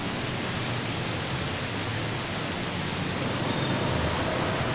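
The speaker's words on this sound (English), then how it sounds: "started to rain, but the thing with the weather here in Bangkok is that it usually rains for up to an hour or so" Steady rain falls on a Bangkok street, a dense, even hiss of drops on surfaces that holds unbroken throughout with no voices.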